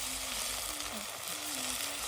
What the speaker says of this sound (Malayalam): അപ്പൊ നമ്മുടെ മുളക്, കാന്താരി മുളക് അങ്ങോട്ട് ചട്ടിയിലേക്ക് അങ്ങോട്ട് തട്ടി കൊടുക്കുക.